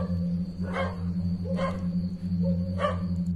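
Dogs bark in three separated bursts at a moderate distance over a steady low hum and constant background drone, with no talking.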